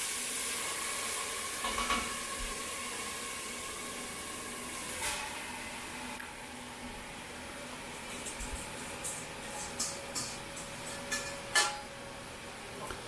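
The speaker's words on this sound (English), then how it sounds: "So you watch the heat there so the garlic doesn't burn" Garlic sizzling in a frying pan on the stove, a steady soft hiss throughout with occasional clinks of a utensil, quiet and close, no voices.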